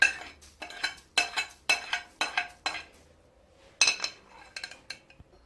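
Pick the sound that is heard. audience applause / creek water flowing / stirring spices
stirring spices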